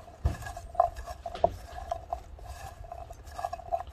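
Trout soup being stirred in an Afghan cast kazan on a folding wood stove, with a few soft clinks and scrapes of a utensil against metal, close and fairly quiet.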